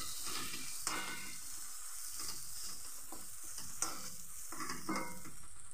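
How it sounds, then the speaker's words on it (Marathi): Cashew paste is stirred in a pan for shahi paneer masala, a soft continuous sizzle with scraping spatula strokes and a couple of light clicks, close and fairly quiet. "छान हलवून घेऊ."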